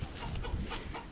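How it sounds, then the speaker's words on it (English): Rooster on a mango farm in Far North Queensland clucking in short bursts, close and fairly steady over a low outdoor rumble, with no one talking. "And then you've got a rooster there."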